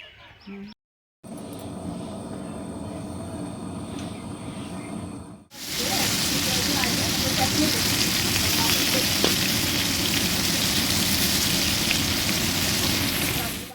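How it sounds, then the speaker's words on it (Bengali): Potatoes frying in a home kitchen pan, a loud steady sizzle that starts after a short pause and runs on evenly, with faint background sounds before it. "এই যে দেখো আলু ভাজা হচ্ছে"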